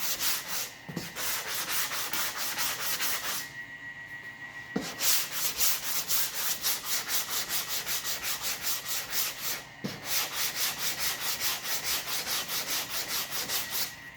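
Body filler on the C pillar of a 1969 Plymouth Sport Satellite is block sanded by hand, giving steady rhythmic rasping strokes up close, broken by a few brief pauses and knocks.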